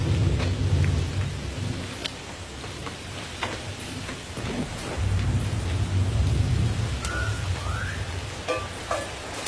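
Heavy rain pours steadily through a thunderstorm, with low rolling thunder swelling and fading beneath the downpour and no voices present.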